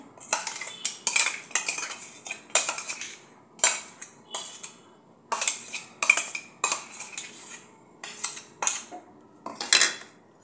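Steel spoon clattering against a metal bowl while mashed potatoes are mixed with ground spice paste for mini samosa filling, a quick series of close, sharp scraping clinks in irregular bursts.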